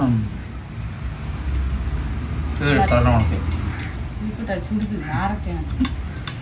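Rock fish frying in a pan of hot oil, a steady close sizzle running throughout, with stirring and pan scrapes over it while a person talks.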